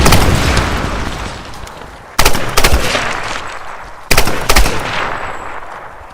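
Gunfire in the Tomb Raider video game, loud close shots in two rapid double bursts, each followed by a rolling echoing tail that fades out.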